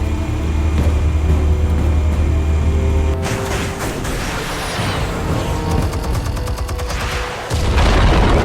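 Explosives detonate in a Batman video game: a heavy rumbling boom swells into dense crackling blasts and debris, followed by a second deep roar near the end, loud and close with no talk.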